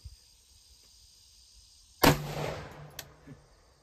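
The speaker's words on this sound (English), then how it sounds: "Forgot how loud this gun is." A single loud, sharp gunshot from an AR-15 with an 11.5-inch barrel firing steel-case .223 target ammunition outdoors, a sudden crack followed by a brief rolling echo, then a faint click.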